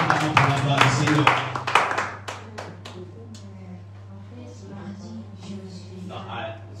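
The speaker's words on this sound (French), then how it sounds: "nous acclamons très fort pour la gloire de Dieu" A church congregation applauding loudly together at a worship service, dense clapping with a steady hum beneath, then fading into quieter scattered claps and murmuring voices.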